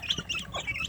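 Free-range village hen with her chicks, giving a quick run of close, soft clucks and high peeping calls, with no talk.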